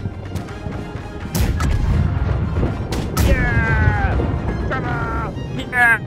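Ship cannons fire in a broadside during a naval battle in the game Blackwake, heavy booms and crashes rolling over one another close by, with excited players shouting throughout.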